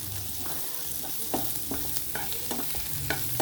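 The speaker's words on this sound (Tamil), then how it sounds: "கிளறிக்கிட்டே இருங்க. ஒரு நிமிஷம் விட்டு கிளறுங்க." Onions fry in a pan for chicken uppu kari while being stirred, a close steady sizzle with repeated scraping strokes of a spoon against the pan and no voices.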